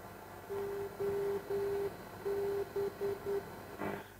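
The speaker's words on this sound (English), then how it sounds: "we have here the non-directional beacon of the airport of Brussels" Morse-code identifier tones of the Brussels airport non-directional beacon picked up on a longwave radio: a steady keyed tone in clear dashes and dots over a hissy, crackling band-noise background, moderately loud.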